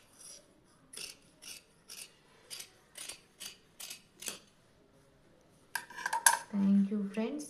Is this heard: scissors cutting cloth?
yes